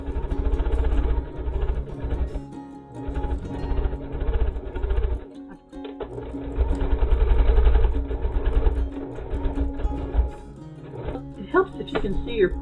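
A sewing machine stitches scrappy quilt block pieces with a steady, close motor whir and rapid needle chatter, stopping briefly twice before ending in a few light clicks and rattles.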